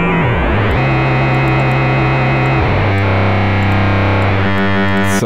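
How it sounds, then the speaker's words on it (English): Sine wave oscillators on a Vengeance Avenger software synth, cross-modulated by a very high FM oscillator, give a loud, buzzing, harsh, distorted tone whose pitch and timbre shift in several distinct steps. "this OSC is modulated by this very high FM OSC"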